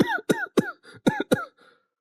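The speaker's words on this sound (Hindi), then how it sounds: "अरे बेटा, तुम्हें तो कुछ ज्यादा ही खांसी हो गई" A young man coughs repeatedly in a home kitchen, six or so harsh, close bursts in quick rhythm with short gaps, tapering to a faint final cough.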